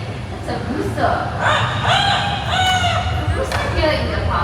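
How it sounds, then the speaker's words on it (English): A rooster crows a few times in a park at the Bird Paradise in Mandai, Singapore, its calls carrying over a noisy outdoor crowd with people talking throughout. "Hey, that's a rooster."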